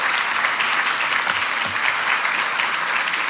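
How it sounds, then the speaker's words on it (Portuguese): An audience applauds steadily and loudly at a Portuguese talk on Earth and other planets, dense clapping filling the room without letup. "Uma salva de palmas para as 2 estrelas que temos connosco"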